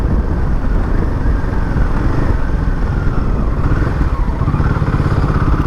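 A Royal Enfield Himalayan 450 motorcycle ridden in first or second gear, its engine giving a steady, fairly loud low rumble with road and wind noise and no talking.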